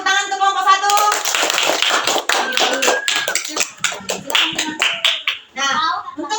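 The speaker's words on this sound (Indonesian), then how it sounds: "Berikan tepuk tangan untuk kelompok 1." Classroom clapping for a student group in a multigrade lesson, a burst of quick claps from many hands lasting several seconds, with a teacher's voice speaking over the start and again at the end.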